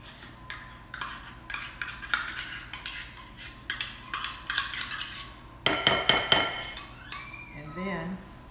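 Utensil stirring butter, mayonnaise and other ingredients into a corned beef, cabbage and squash casserole mixture in a dish: repeated scraping and clinking strokes, close and moderately loud, with a brief busier burst of clatter midway.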